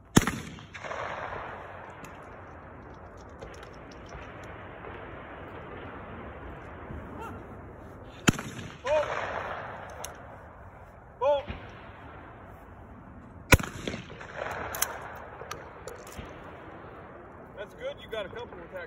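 Sharp 12-gauge-style shotgun reports at an outdoor trap shooting range, a few separate cracks spaced several seconds apart, with men chatting between shots.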